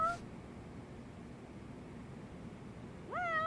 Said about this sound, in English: this office has a ton of cats